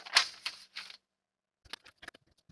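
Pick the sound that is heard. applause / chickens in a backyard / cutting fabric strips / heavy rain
cutting fabric strips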